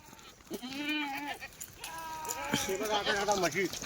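Kathiawari goats and sheep bleat in a series of calls, several drawn-out cries overlapping near the listener, with voices talking in the background among the livestock.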